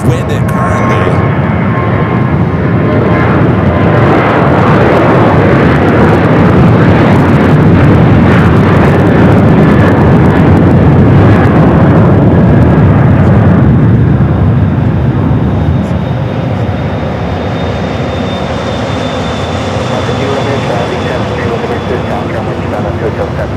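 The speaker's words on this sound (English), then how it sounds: "This corporate jet lining up 25 left." A corporate jet lines up and powers up on runway 25 left at Phoenix Sky Harbor airport. Its loud, sustained broadband engine roar holds for most of the stretch, then gradually thins and softens toward the end.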